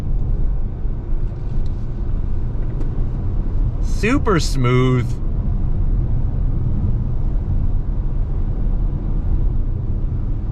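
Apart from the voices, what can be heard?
2022 Acura RDX SUV driving through a bend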